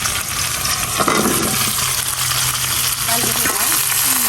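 Bottle gourd frying in a hot pan with oil, a dense, loud, steady sizzle up close, broken by a few clattering stirs and utensil knocks.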